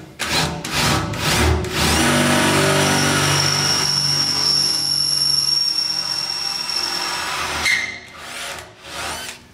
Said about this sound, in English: We're going to drill those out.